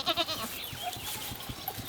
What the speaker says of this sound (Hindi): बकरी के मैं हरदम भे भे करत रहे